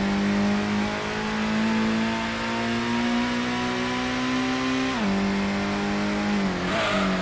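A GTO race car in Gran Turismo on PlayStation, on the Deep Forest circuit, holds a loud steady high-revving engine drone that climbs slowly in pitch, then drops sharply twice with a gear change and a brief tire scrub near the end.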